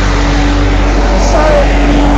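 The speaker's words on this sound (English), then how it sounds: "there's a big bleeding noise, and that's the truck." A truck in uptown Boston gives off a loud, steady, close rumble that holds unbroken throughout.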